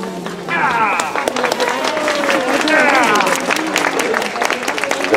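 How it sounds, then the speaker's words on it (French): Applause from a crowd at a farm sheepdog trial weekend, steady clapping throughout mixed with excited voices and chatter. "Les applaudissements bien mérités."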